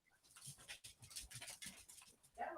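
Dogs pant quickly and rhythmically close by, with a few soft whimpers and whines rising near the end of the stretch; no one talks.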